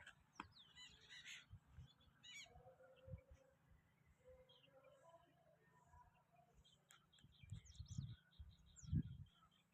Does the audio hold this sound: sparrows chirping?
yes